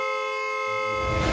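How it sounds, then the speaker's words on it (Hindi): A vehicle horn sounding in a single sustained, loud, tonal blast held for the whole moment, with a rising rumble of noise near the end. "मेरी जान को नॉन स्टॉप हॉर्न बजा रहे"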